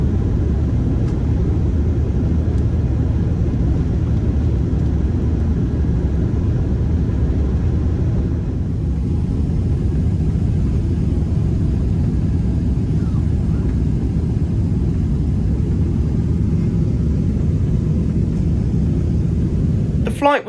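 Inside an airplane cabin departing the airport, a loud, steady low engine rumble drones continuously, ending with a brief sharp bump.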